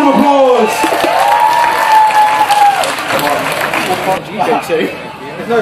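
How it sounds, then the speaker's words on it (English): A crowd at a chilli eating contest breaks into sustained applause with cheers and whoops, loud and continuous, with voices calling out over the clapping. "big round of applause"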